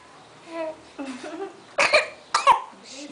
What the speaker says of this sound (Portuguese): Tu vai sair tudo tossindo